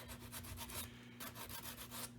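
An emery board rubs along the edge of a leaded glass sun catcher in quick, even back-and-forth strokes, a faint close scraping rasp.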